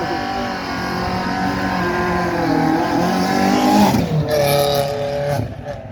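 A Renault Clio 2 race car arrives at a hill climb, its engine loud and close, revving and climbing in pitch for several seconds before easing off as it passes.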